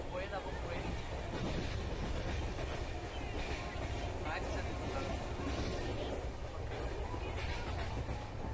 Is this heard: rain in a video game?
no